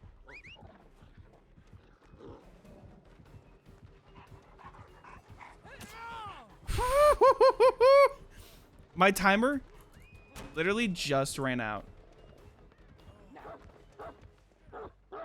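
The Houndmaster's dog in the video game Dead by Daylight gives bursts of sharp barks and yips between stretches of soft panting. The barks come in loud clusters in the middle, with a person talking intermittently over the game sounds.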